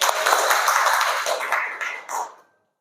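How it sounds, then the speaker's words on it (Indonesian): An audience at a school event claps together, a bright, dense patter of applause that holds steady for about two seconds, then thins and stops abruptly. "boleh tepuk tangannya semuanya"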